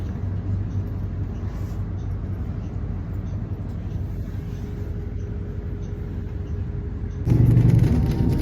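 Steady street traffic rumbles at a Toronto bus stop, a continuous low drone of passing vehicles that swells louder near the end as a large vehicle pulls close.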